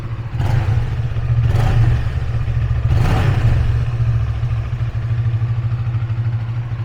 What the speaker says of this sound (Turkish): Bir ufak gaz verebilir miyiz?